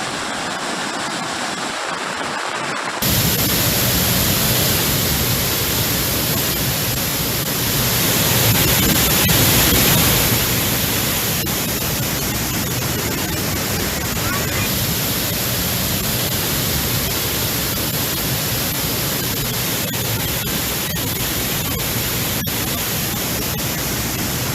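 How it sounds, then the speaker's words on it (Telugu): Floodwater in Kerala rushes through flooded houses as a constant broad roaring wash of water, steady and fairly loud with a brief swell, no voices. "ఇళ్లల్లోకి వరద ఏ స్థాయిలో కొట్టుకు వస్తుందో చూడొచ్చు."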